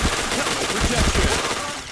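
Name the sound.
gunfire in a shooter video game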